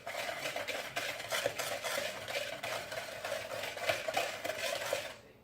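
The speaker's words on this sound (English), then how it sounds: "And then we have to whisk this up." Apple crisp ingredients are whisked briskly in a bowl, giving a fast, steady scraping and clicking rhythm that sounds close and continuous for several seconds before stopping.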